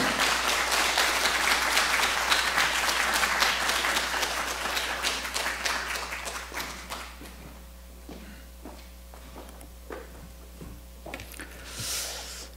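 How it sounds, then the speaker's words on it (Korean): A church congregation gives a warm round of applause welcoming a missionary to the pulpit at a Sunday service, loud dense clapping that thins out and fades after about six seconds, leaving scattered claps and small room noises. "다시 한번 환영의 박수, 큰 박수로 환영해 주시면 감사하겠습니다"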